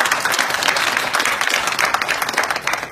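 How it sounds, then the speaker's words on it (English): Audience applause at an education seminar for administration in developing countries, a dense, even round of clapping from a large crowd, sustained throughout and heard at moderate distance. "let's put our hands together and applaud."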